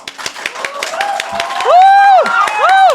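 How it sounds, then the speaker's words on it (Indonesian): A small audience at a Christian Q&A talk show claps in scattered, uneven bursts, while cheering and whooping voices rise over the clapping toward the end. "Boleh tepuk tangannya?"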